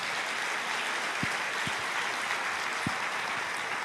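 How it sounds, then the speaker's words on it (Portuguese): A congregation applauds during a church sermon, a fairly soft, continuous patter of clapping with a few sharper thumps standing out, no speech over it. "pode aplaudir"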